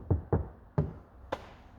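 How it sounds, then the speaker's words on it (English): The insulated door of a Mega Mobil Classic campervan shuts with a few dull, muffled thumps, close by and fairly quiet, the last knock sharper than the rest. "you can hear it when I close the door"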